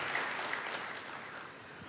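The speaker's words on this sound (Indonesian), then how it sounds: "Berikan tepuk tangan yang meriah buat Tuhan." A church congregation claps together in a steady, dense patter of applause, moderately loud and continuous, fading slightly toward the end, with no voices on top.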